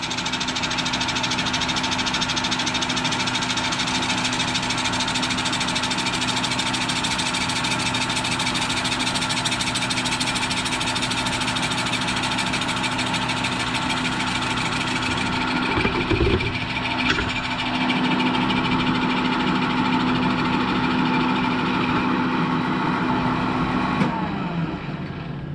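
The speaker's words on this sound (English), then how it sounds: "anybody who owns and operates a metal lathe is probably cringing right now that I'm trimming down wood" Metal lathe turning down a piece of hard lignum vitae wood: a steady, continuous machine drone with a constant whine, holding even and loud throughout, with a brief disturbance and scrape near the end as the cut changes.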